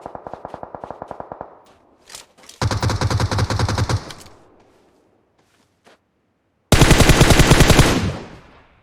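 Automatic gunfire in the mobile battle royale shooter PUBG Mobile, with a short rapid burst, then two louder sustained bursts of rapid fire separated by near silence and a few faint single shots.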